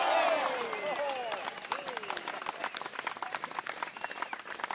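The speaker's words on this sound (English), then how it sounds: "Give yourself a round of applause." A round of applause sound effect on a podcast opens with a few descending whistle-like sweeps, then settles into a dense patter of many clapping hands that fades slightly and runs steadily to the end.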